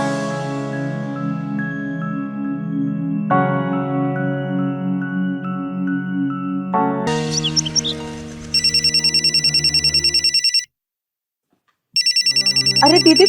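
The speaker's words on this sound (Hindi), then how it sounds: "फोन बज रहा है" A phone ringtone plays out: a steady looping melodic tune at first, then shifting into a bright, high, trilling electronic ring that stops briefly and starts again, loud and close, with no voices over it.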